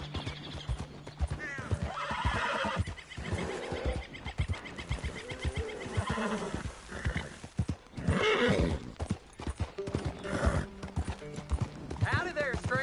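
A horse in the Red Dead Redemption 2 game clip-clops along at a steady gait and whinnies several times, the hooves fairly close, while voices talk over much of it.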